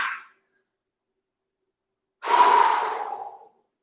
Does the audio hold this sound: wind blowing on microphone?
no